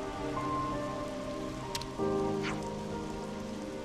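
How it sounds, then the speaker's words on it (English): Steady rain hisses in Xenoblade Chronicles 3, an even, continuous patter that holds throughout, with a brief chime and a soft tonal game score underneath and no voices. "Oh, bad day for rain"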